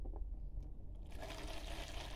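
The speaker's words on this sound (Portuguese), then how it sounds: "eu vou colocar água morna" Warm water is poured into a container to mix a homemade cleaning solution of alcohol and detergent. The pour starts as a quiet trickle and then becomes a steady, close, gushing stream, with no talk over it.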